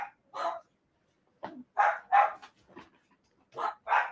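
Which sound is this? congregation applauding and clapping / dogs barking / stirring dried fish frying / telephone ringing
dogs barking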